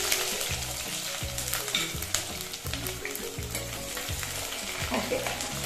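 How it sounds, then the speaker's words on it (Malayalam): Ginger, garlic, shallots and green chilli fry in hot oil after the mustard seeds have popped, in a fish curry recipe. A continuous close sizzle with crackling is broken by regular scraping strokes of stirring, and no one talks. "ഇനി കടുക് പൊട്ടിയതിന് ശേഷം നമ്മൾ ഇഞ്ചി, വെളുത്തുള്ളി, ചുവന്നുള്ളി, പച്ചമുളക് ഇത്രയും സംഭവങ്ങളും കൂടെ അതിനകത്തേക്ക് ഇടുക"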